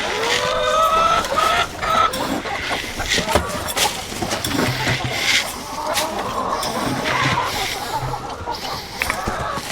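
A flock of farm chickens clucks and squawks continuously and close by, with overlapping calls and an occasional rooster-like cry throughout.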